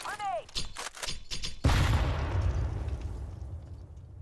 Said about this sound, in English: you can really hear like a thick thud of the grenade distinctly in your left ear